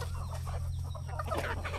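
Native Tamil country chickens and large roosters clucking and murmuring close by on a farm at feeding time, several overlapping birds, over a steady low hum in the background.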